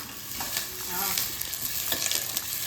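Onions sizzle and crackle in a hot pan, with a steady frying hiss and occasional scraping as they are stirred.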